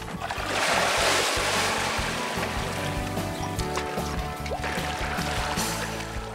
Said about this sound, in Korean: 후끈 달아오는 몸을 식혀주는 건 로바니에미의 강물입니다.